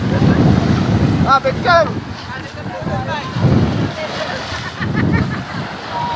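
Sea waves at a beach in Lubo, Batangas, surging and washing in slow swells under steady wind rumble, with people shouting and chatting nearby over the surf.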